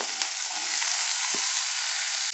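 Onions frying in a pan for crispy chilli potatoes sizzle loudly and continuously up close, with a couple of soft utensil knocks and no talking.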